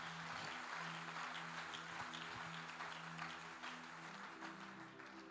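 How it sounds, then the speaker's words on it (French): A church congregation applauding and cheering, steady dense clapping with a faint sustained tone beneath, fairly distant and quiet throughout. "Acclame très fort où tu es"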